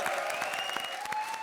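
A studio audience on a comedy show breaks into steady, lively applause, dense clapping that fills the whole moment, with a sustained tone and a faint voice underneath.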